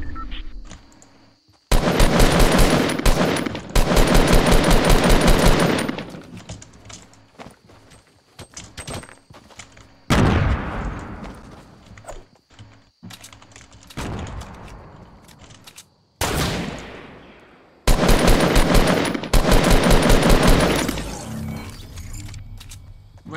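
Gunfire in a PC video game: several long, loud bursts of rapid automatic fire, separated by shorter single shots and quieter stretches with decaying echoes, no talking.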